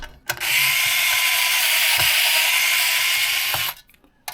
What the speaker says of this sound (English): Then start removing the 3 top screws.